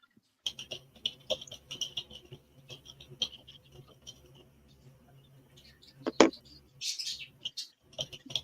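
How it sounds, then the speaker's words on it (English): Birds chirp and tweet close by in quick, irregular bursts, with a louder flurry of high calls near the end and a faint background murmur throughout. "Crazy birds."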